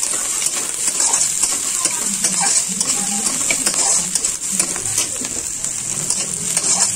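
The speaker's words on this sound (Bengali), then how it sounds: "এবার এটাকে আমি ভালো করে নাড়বো। পেঁয়াজটা মোটামুটি দেখো ভাজা হচ্ছে" Onion frying in oil in a pan while being stirred: a continuous bright sizzle with scraping and clinking of the spoon against the pan, close and fairly loud throughout.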